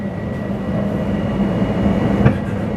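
An LIRR commuter train rolls steadily near Westbury, giving a loud, close interior rumble with a faint rail clack and no speech.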